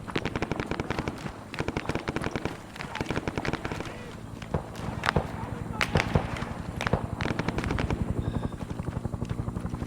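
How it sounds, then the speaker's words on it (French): Heavy machine guns hammer away in the video game ArmA 3, long rattling bursts over the steady close drone of a helicopter, with sharp cracks scattered throughout. "Il y a des mitrailleuses lourdes qui m'engagent quand je passe au-dessus de la zone"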